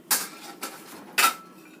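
A pan for gluten-free chicken stuffing is shifted and set down on a kitchen counter, giving three short clattering knocks spaced about half a second apart, close and fairly crisp, with no talking.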